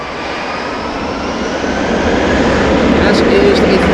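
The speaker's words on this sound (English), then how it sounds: "KLM 777 has been pushed back." A KLM Boeing 777 rolls along the taxiway at Amsterdam Schiphol after pushback, its jet engines giving a loud, steady broadband roar that builds slightly over a few seconds, with no talk.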